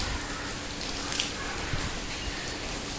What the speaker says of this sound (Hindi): क्या मस्त हो रही है यार बारिश, फुल स्पीड में हो रही है यार